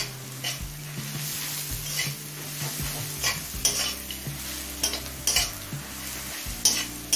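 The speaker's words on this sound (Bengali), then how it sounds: "গোটা গরম মশলা দিয়ে 2 মিনিট ভেজে নিয়েছি।" Whole garam masala (crushed cardamom, cinnamon stick, cloves) frying with reddened onions in a pan for a Bengali kakrol chicken dish, a close steady sizzle broken by repeated scraping stirs and light clinks of the utensil against the pan.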